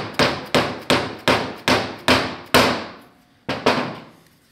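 Hammer blows driving an engine mount into place on a 5.0 Mustang during an engine swap: seven sharp metallic strikes in a steady rhythm, a short pause, then two more, loud and close with ringing decay.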